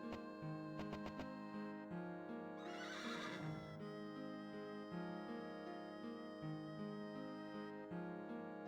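A horse whinnies loudly once over steady background music, with a few hoof clops before it, in the video game Wild Arms.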